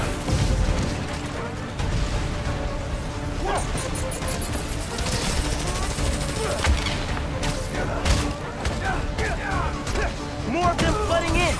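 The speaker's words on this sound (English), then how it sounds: "I need to head toward the gunfire." Gunfire in the Spider-Man: Miles Morales video game, bursts of shots and crashing impacts in a snowy city battle, dense and continuous alongside game effects and voices.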